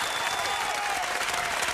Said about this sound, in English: Ladies and gentlemen, round of applause.